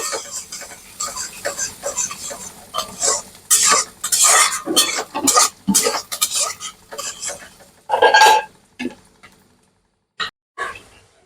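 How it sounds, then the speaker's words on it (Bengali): A spatula stirs chopped onions frying in a little oil in a wok. Repeated scraping and clattering strokes against the metal come over a soft sizzle, then thin out into a few isolated knocks near the end. "পেঁয়াজগুলো একটু ভালো করে ভাজতে নেব"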